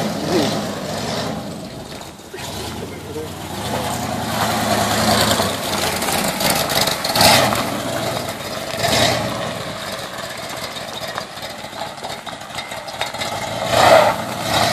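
A 1981 Cutlass engine idles and revs in a yard, a loud rough rumble that surges repeatedly, with wheel spin mixed into the engine noise and no clear speech.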